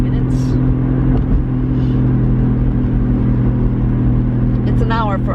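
A car drives steadily at night, with a constant engine drone and road rumble under a person talking, and a short whirring chirp near the end.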